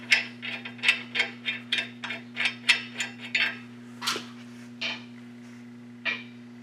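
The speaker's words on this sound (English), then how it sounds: "Get our brake hose bracket back where she's supposed to be. Tighten that down." Ratchet cranking down a brake hose bracket bolt on a 2007 Chevy Silverado during wheel bearing work, a rapid series of about a dozen close, crisp clicking bursts with short pauses, over a steady low hum.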